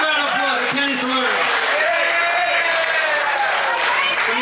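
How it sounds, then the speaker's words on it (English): Audience applause for Kenny Salerno at the 1997 Manhasset Bay Poker Run Summer Jam, a steady broad wash of clapping lasting throughout, with cheering and voices calling out over it. "Big round of applause for Kenny Salerno."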